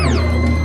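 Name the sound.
Noise Engineering stereo oscillator module, inharmonic algorithm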